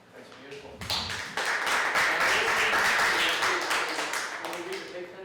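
An audience at a high school poetry awards ceremony in New York City breaks into sustained applause, the clapping swelling quickly and holding steady before tapering slightly.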